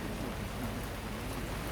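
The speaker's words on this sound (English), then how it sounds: "it's raining" Rain falls steadily at an outdoor public rally, a soft, even hiss of drops with a faint low murmur beneath and no clear voices.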